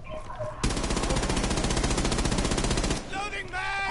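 Sustained automatic gunfire in a shooter video game, a loud rapid burst lasting over two seconds, followed by scattered sounds and a voice in the background.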